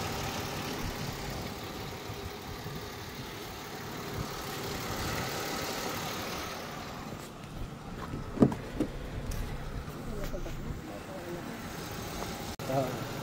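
A Chevrolet Malibu's engine idles steadily at close range, a continuous low rumble running throughout while people talk over it.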